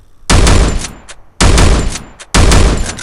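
A Winchester gun fired in the Free Fire video game: three loud, heavy bursts of gunfire, each a roughly one-second blast separated by short pauses, with no voices.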